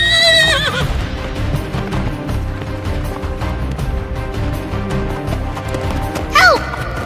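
A horse whinnies loudly at the start, followed by a steady clip-clop of hooves, then a second shorter neigh near the end, all close by.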